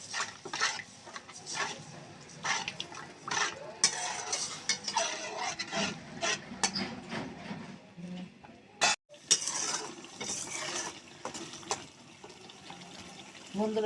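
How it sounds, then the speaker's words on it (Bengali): Curry spices with a little added water sautéed in a pan for a gulsha fish curry with potato, tomato and peas: repeated close scraping and clinking stirring strokes over a wet sizzle, broken by one brief pause. "দেখুন তরকারিটা সুন্দর করে কষিয়ে নিচ্ছি"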